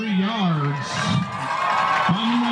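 A high school football crowd at a Hilldale vs Fort Gibson Friday night game cheers and roars after a 53-yard field goal, a steady loud wash of shouting and whoops while a commentator talks over it throughout.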